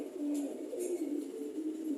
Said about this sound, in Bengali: আমার যেহেতু 55টার মতো কবুতর আলহামদুলিল্লাহ